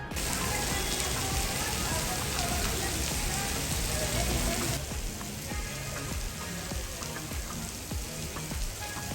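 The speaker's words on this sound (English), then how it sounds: "It started to rain heavily as we reached Mysore." Heavy rain pours in a dense, steady hiss near Mysore, India, loud and continuous, easing slightly partway through but never stopping.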